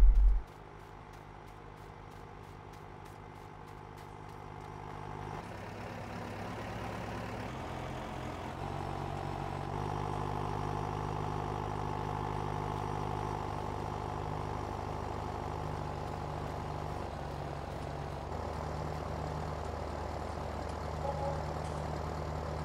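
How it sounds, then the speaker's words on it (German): An approaching tractor in Farming Simulator 19 arrives to deliver pig feed, its steady low engine drone building and idling continuously, fairly loud and alone with no voices. "wie wir hören, unser Trecker kommt und will hier Schweinefutter bringen"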